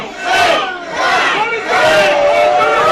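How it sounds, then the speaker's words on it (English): A wrestling crowd at a live indie show screams and yells in loud rolling surges, a dense roar of many voices rising and falling in waves. "You hear them screaming and yelling in favor of Chino"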